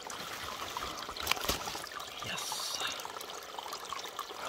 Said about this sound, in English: Yeah, there is water flowing